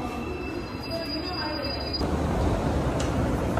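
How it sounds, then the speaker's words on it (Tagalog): Steady rumble and rattle from inside a moving Seoul metro carriage, with a thin high wheel squeal and faint voices in the background. "Nasa loob ng MRT yan guys."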